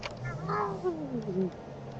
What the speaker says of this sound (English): the cat growled at the same time as you did whatever you did